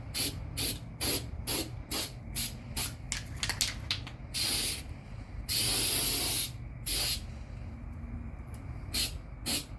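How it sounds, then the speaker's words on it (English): Repeated short hissing sprays at the front edge of a sink cabinet, bursts of aerosol in quick succession with a few longer blasts, close and fairly loud, no talking. "I'm spraying the front of this edge."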